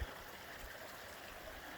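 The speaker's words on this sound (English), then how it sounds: "little creek" A small creek flows through a fern-walled canyon in Fern Canyon, California, a quiet, steady watery rush with faint trickling and one soft low thump at the very start, no voices.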